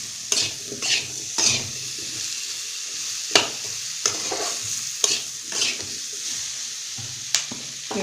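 Potatoes with chili powder and salt fry in a pan while a spatula stirs them, giving repeated scraping strokes every half second to second over a steady, close sizzle.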